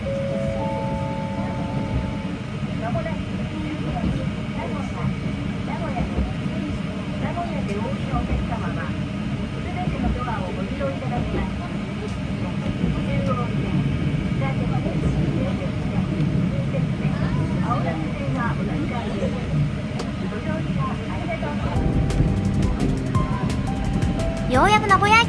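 JR Kansai Line train pulling into Nagoya Station, a steady low rumble of wheels and car body throughout with faint squeals, growing slightly louder near the end as it arrives.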